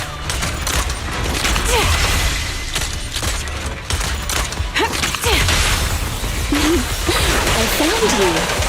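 Gunfire in the video game Zenless Zone Zero, a busy mix of shots, impacts and mechanical clanks under character voices calling out during combat, loud and close throughout.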